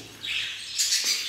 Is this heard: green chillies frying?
no